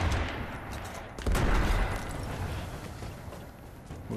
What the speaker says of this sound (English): They're shooting me from down under.